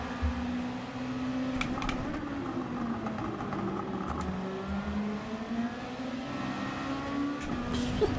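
A Group 2 race car in Gran Turismo 7 at Fuji International Speedway drones with a steady, loud engine note throughout, its pitch rising and dipping slightly as it holds speed through corners, with no talk over it.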